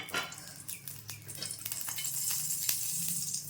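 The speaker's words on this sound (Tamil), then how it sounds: "அதில் 1/2 டீஸ்பூன் நெய் விட்டுருக்கேன்." Half a teaspoon of ghee melting in a small pan on a stove, giving a steady, low crackling sizzle with faint pops and clicks throughout.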